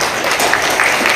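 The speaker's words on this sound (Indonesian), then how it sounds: "Boleh tepuk tangan Bapak Ibu." Audience applause at an education office event in Kupang, a dense, steady patter of many hands clapping at full volume, with no break through the short burst.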